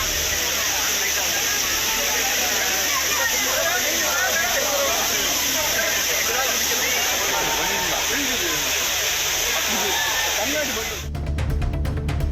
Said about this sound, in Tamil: பேரருவி, ஐந்தருவி உள்ளிட்ட அனைத்து அருவிகளிலும் தண்ணீர் வரத்து சீராக உள்ளது.